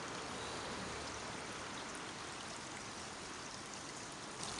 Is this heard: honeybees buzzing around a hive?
no